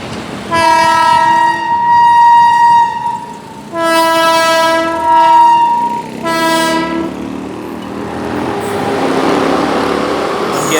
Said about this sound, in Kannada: ಐ ಥಿಂಕ್ ಇದು ಫುಲ್ಲು ಗೂಡ್ಸ್ ಗಾಡಿ